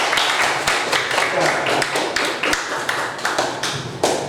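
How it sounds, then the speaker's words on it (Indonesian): A classroom gives a group a round of applause, with many hands clapping in a brisk, uneven patter. The clapping is loud and close, holds steady for a few seconds and then thins toward the end. "kasih aplaus dulu buat kelompok"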